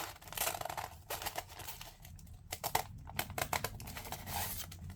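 Scissors cut paper for a junk journal cover, a run of close, crisp snips and rustles with short pauses between strokes, fairly quiet and with no talking.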